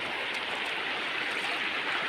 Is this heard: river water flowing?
yes